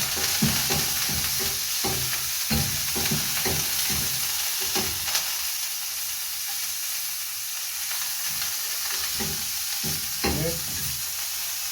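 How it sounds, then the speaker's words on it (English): Butter melting in a hot frying pan, a loud, continuous close sizzle with crackling pops and occasional scraping stirs throughout, no voices. "in a frying pan I'm going to drop some butter"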